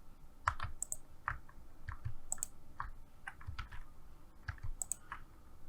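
Computer keyboard keys and mouse buttons click while working in Blender modeling software, a quiet, close, irregular run of short taps and clicks in small bursts with pauses between, no voice present.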